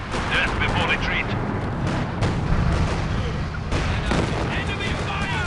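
An ISU-152 and infantry weapons in a Company of Heroes battle at the Poznan Citadel give heavy artillery booms and scattered gunfire. Soldiers' voices shout over the loud, dense battle din.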